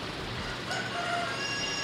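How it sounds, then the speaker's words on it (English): Five-month-old Cochin chickens cluck and a rooster crows faintly amid the steady noise of a Dickinson County Fair poultry show hall. "And Brianna, what kind of chickens have we got here? Cochins"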